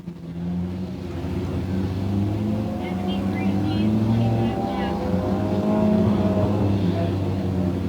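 Race cars roar down the front stretch of an enduro oval, a steady loud engine drone that swells and pitches up as they pass, with a commentator's voice running over the noise.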